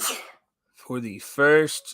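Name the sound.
sneeze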